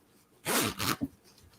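A zipper on a plush toy's mouth is pulled shut in two quick close rasping strokes, followed by a brief small click, with quiet room tone around it.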